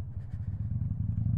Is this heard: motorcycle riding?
yes